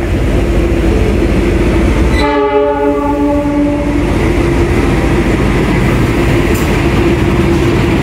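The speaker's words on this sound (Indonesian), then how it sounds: "akan masuk di jalur 3 juga kereta api Argo Wilis dari Bandung tujuan Surabaya Gubeng" Argo Wilis passenger train, a first-generation stainless steel set from Bandung to Surabaya Gubeng, sounds a loud multi-tone horn for about two seconds over steady rumbling rail noise as it arrives at platform 3.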